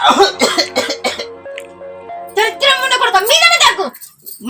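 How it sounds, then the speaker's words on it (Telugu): A child coughs hoarsely several times in close, loud bursts, then a longer rasping, voiced cough-like sound follows before trailing off. "ఇట్లనే దగ్గుకుంటా"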